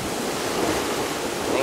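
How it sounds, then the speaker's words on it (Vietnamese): Strong open-sea waves met while heading offshore by boat to fish, a steady loud wash of churning water and wind rumble over the microphone, briefly heard with no speech. "Sóng quá mạnh rồi."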